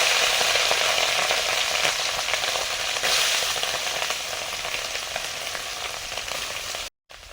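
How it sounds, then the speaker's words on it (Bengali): Mourala fish frying in mustard oil, a loud, steady, dense sizzle that holds near and constant, briefly cut off near the end before resuming. "সর্ষের তেল দিয়ে দিয়েছি, এবারে মৌরলা মাছগুলো ভাজবো"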